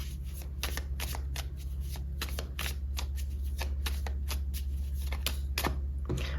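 Tarot cards being shuffled by hand, rapid crisp riffling flutters repeating close up over a steady low background hum, with no talk.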